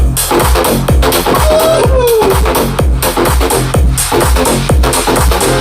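Loud music with a steady, punchy kick-drum beat and melodic lines plays through a JBL PartyBox On-The-Go 320 portable party speaker, continuous and bass-heavy.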